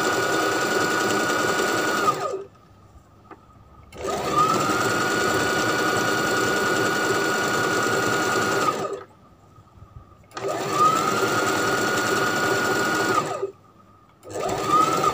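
A domestic sewing machine stitching a sleeve onto a short-sleeved t-shirt: steady, rapid whirring runs of the motor and needle, close and loud, stopping and restarting three times with brief quiet gaps.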